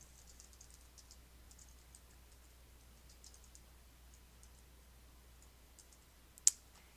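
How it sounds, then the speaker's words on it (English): Faint, quick keyboard typing in short bursts, light clicky taps close by, ending with one sharper, louder click. "So I'm going to click once here and begin typing."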